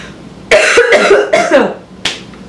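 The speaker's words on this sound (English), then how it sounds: "I don't know why I'm coughing so much." Close, loud coughing in a cluster of three rough bursts, followed by a sharper final cough.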